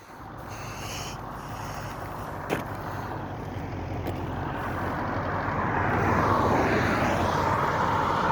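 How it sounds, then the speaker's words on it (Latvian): An old Belarus tractor approaches and drives past near a bridge over the Amata river, its engine drone growing steadily louder over several seconds. "Reka brauc vecais Belarusas mums, re?"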